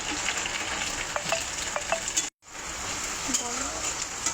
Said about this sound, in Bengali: ভাজা ভাজা হয়ে এসছে। এবার আমি দিচ্ছি এখানে টমেটো কুচি, একটু কাঁচা লঙ্কা কুচি